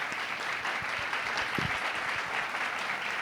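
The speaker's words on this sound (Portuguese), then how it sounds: "muito obrigado ao Bruno, à Paula, a Tatiana, uma salva de palmas para eles" An indoor audience at a panel on education journalism gives a short burst of steady, dense clapping that fills the whole moment without talk.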